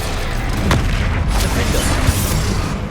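Spell explosions from Confringo and Bombarda in the Hogwarts Legacy video game, a dense run of booming blasts and bursts that overlap in a loud, continuous battle din over three seconds.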